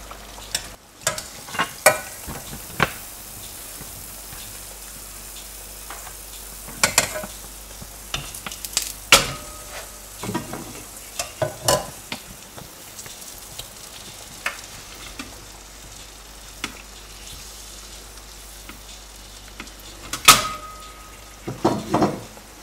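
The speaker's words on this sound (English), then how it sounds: "That is an indication that the bubbling of the oil is reducing, means and that is getting cooked." Adhirasam, sweet rice-and-jaggery fritters, frying in a pan of oil, giving a steady soft bubbling hiss broken by sharp clinks and scrapes from a utensil, with no talk.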